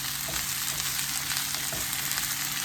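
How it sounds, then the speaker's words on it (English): Steady, close sizzling of spinach frying in a hot pan, a continuous crackle with occasional soft stirring bumps and no voices. "now I'm going to add some spinach."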